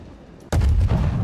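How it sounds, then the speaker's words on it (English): Cannon fire during a castle siege in the Conqueror's Blade video game: a sudden heavy boom breaks over a low background rumble and rolls on with a sustained booming tail. "there's cannons shooting"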